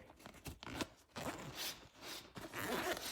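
A zipper on a motorcycle tool bag for a dual sport bike rasps open in several quick pulls, separated by brief pauses and some fabric rustling, close and moderately loud, with no talking.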